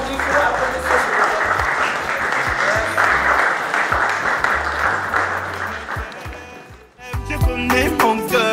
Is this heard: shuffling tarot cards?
no